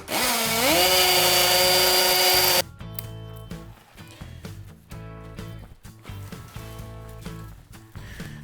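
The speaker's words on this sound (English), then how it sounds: "I'll drill, and then you hand me that drill to screw it in" A power drill whines at rising speed for a couple of seconds, driving screws into wood during home improvement work, then stops, leaving clattering handling noises and light knocks.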